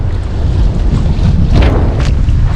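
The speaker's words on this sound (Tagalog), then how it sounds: "lumakas na po yung hangin" Strong wind buffets a small fishing boat at sea with rising waves, a loud blustery rush with gusting peaks and low water churn, close and constant.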